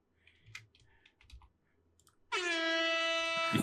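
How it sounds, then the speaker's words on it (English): A few soft clicks and taps, then a loud, blaring air horn blast kicks in and holds steadily to the end. "give me an air horn. Oh, do I have an air horn?"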